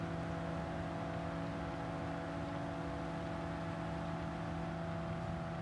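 Steady droning car engine hum from a Gran Turismo 7 race, a constant tonal whine at even pitch and fairly low level, with no voices.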